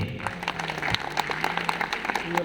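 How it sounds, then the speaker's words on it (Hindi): Clapping from a seminar audience in Hazaribagh, a scattered, uneven patter of hands with individual claps distinct, fairly close and moderate in loudness, with faint crowd murmur underneath. "एक बार तालियां बजा दीजिए"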